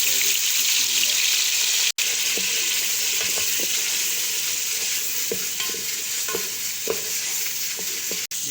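Onion paste goes into hot oil with cumin in a pot for aloo gosht and fries with a loud, continuous hiss, while scattered scrapes and knocks of stirring come through close by.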